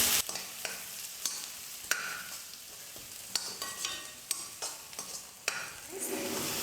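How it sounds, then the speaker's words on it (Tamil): Capsicum and onions sauté in a pan for hotel-style gobi manchurian, giving a steady close sizzle. Sharp scraping stirs of the spatula break through it at irregular intervals, with no voices. "குடமிளகாவை சேர்த்து ஒரு 2 நிமிஷம் நான் வதக்கிக்க போகிறேன்."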